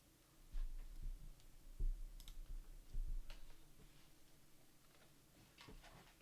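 Faint, irregular clicks from typing an equation on a virtual keyboard in VR, a sparse run of soft taps spread over several seconds under low background hiss.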